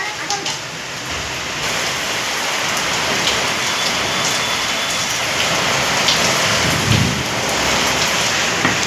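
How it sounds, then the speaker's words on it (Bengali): Heavy rain pours steadily in a dense, continuous hiss on surfaces outdoors, loud and unbroken throughout, with a faint low rumble mixed in. "বৃষ্টি শুরু হয়ে গেছে, ভালো বৃষ্টি হচ্ছে এখন।"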